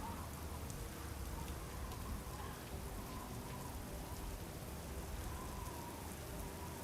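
Steady, even rain pours on surfaces in the Broken Sword 4 adventure game, a continuous soft hiss without pauses or voices.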